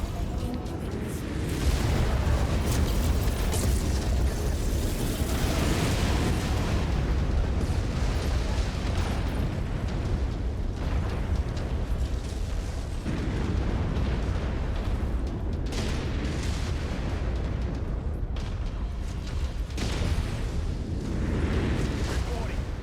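Missile explosions in the mech combat video game Mechwarrior 5 Mercenaries form a continuous heavy rumble of booms and blasts with swelling impacts throughout, under a constant dense roar of battle noise.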